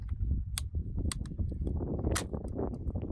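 An electric flintlock pistol sparking: several sharp, crackling electric snaps, about five bursts spread irregularly over a low mechanical hum, close and fairly loud.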